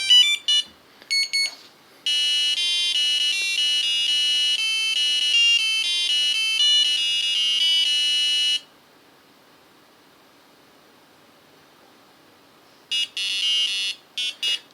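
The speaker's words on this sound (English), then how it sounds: "double beep, playing Axel F on the beeper" ESP32 FunBoard beeper sounding a quick double beep, then playing Axel F as a run of loud electronic tones, going quiet, then starting again with another double beep and tones.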